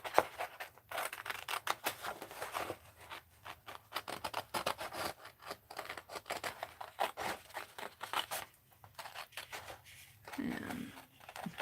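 Scissors cutting paper for a mixed media art journal, a quiet, irregular run of close snips and rustling paper strokes.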